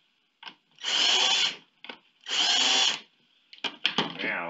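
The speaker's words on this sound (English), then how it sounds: "And now to the pilot drill for the half inch material" A power drill bores a pilot hole in half-inch material through a template, whirring in two roughly one-second bursts with a pause between, followed by short clattering knocks and a brief third spin-up.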